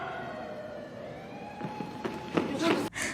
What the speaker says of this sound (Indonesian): terdengar sirene polisi yang langsung membuat mereka pontang-panting melarikan diri